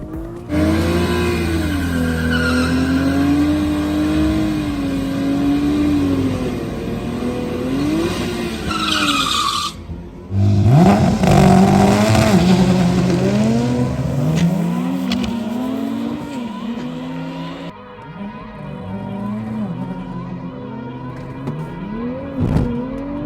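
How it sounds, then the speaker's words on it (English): A Nissan Z does a burnout, loud engine revving and rising with long squealing tire skids, a brief cut near ten seconds, then continued revving and screech close by with no talk. "So I'm gonna have to do like a really good burnout and wish for the best."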